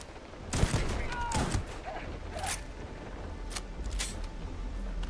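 Shotgun fire in the sci-fi shooter Starfield: several sharp, fairly close blasts spaced a second or so apart, over a low background rumble of game ambience.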